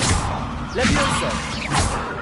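Levioso levitation spell cast in a wizard video game: a few quick airy whooshes with soft thuddy bursts, loud and close over a steady game-sound bed.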